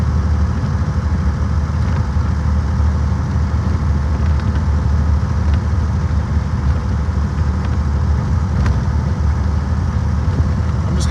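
A steady, loud low engine drone from an antique survivor car on the road in hot weather, its transmission shifting sluggishly, holding an even rumble with light road noise and no speech.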